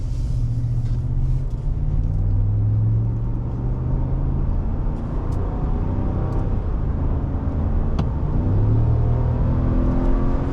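A 2022 RAM 1500 Rebel pickup with a HEMI V8 accelerates on the road, a steady loud low engine rumble rising and falling in pitch as it picks up speed, with constant road and wind noise throughout.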